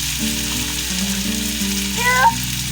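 Tomatoes and salt frying in a pan, a steady close sizzle with light stirring scrapes and a brief brighter clink near the end.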